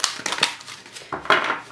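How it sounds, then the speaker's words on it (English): Tarot cards shuffled once in a personal reading: a short burst of crisp riffling and rustling, close and quiet, with no voice over it. "I might just shuffle them once."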